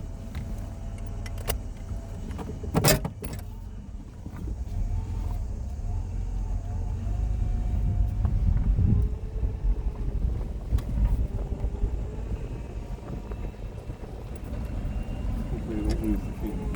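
A 1994 Buick Century Special drives along a road, a steady low engine and road rumble under wind noise, with keys jangling and a loud rattle near the start, and someone talking over it.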